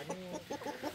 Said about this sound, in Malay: Ayam kampung ada.